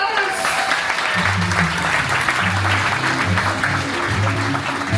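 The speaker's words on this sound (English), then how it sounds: "give her a round of applause" A crowd claps in sustained applause, a dense steady patter filling the room, while a voice talks over it.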